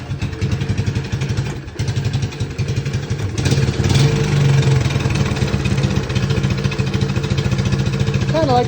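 A Honda 185S ATC engine fires up and settles into a loud, close idle, a steady mid-pitched putter with some clatter that picks up briefly before holding a constant rhythm.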